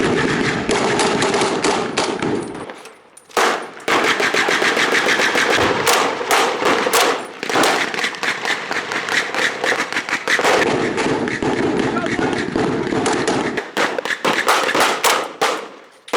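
Rapid bursts of blank gunfire crackle through a WWII battle reenactment in a town in Linden, Tennessee, dense volleys of rifle and machine-gun shots near and loud, broken by a few brief pauses.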